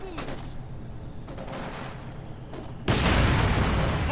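Rifle fire and explosions from a Company of Heroes 2 battle: dense, continuous gunshot volleys that swell into a louder, heavier barrage near the end.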